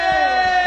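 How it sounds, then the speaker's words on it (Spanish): A live concert crowd roars and cheers, a loud sustained wash of voices with whoops filling the moment. "¡Fuerte el aplauso!"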